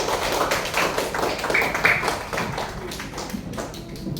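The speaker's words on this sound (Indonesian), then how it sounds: "Oke, tepuk untuk diri kita sendiri." A class of students claps for themselves, a continuous, fairly loud patter of many hands with uneven, quick claps throughout.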